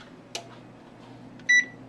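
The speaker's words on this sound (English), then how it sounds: "And then I'm going to set the timer" A single short electronic beep from an oven timer panel being set, preceded by a soft click, over a low steady hum.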